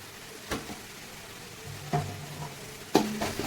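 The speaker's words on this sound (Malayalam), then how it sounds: "നന്നായി മിക്സ് ചെയ്ത് കൊടുക്കാം ഒന്ന് പച്ചമണം ആവുന്നത് വരെ" Three separate scraping strokes of a spoon stir a spice masala with ground cumin and coriander in a pan for vegetable biryani, each followed by a faint sizzle, with quiet pauses between.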